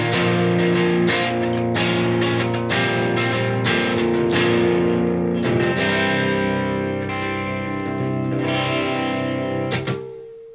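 A Godin electric guitar played clean on its bridge pickup rings out with strummed and picked chords, bright sustained notes layered with a shimmering effect, loud and alone.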